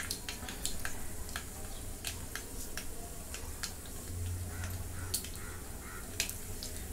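Mustard seeds popping and sizzling in hot oil in a cooking pot on a gas stove, a steady close frying hiss with scattered sharp crackles and pops throughout.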